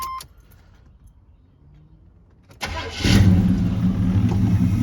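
After a quiet pause with small clicks, a car engine cranks and catches after a no-start problem and a month unused, settling into a loud, steady idle nearby.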